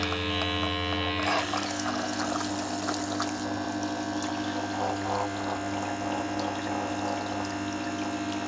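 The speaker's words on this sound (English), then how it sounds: "I'll turn the Tormek on, and I'll double tap the switch on the pump to turn it on." A Tormek sharpening machine with a diamond wheel runs steadily alongside its small water pump, giving a continuous close motor hum with wet trickling over the wheel; the tone shifts as the pump switches on early, then stays level with no talk.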